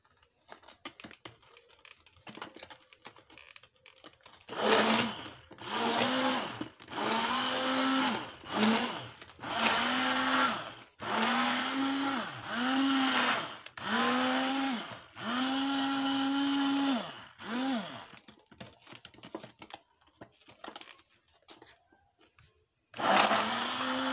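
An electric mixer beats chocolate cake batter while flour is added, running in a series of loud, steady whirring bursts separated by short pauses, each with a clear humming motor pitch.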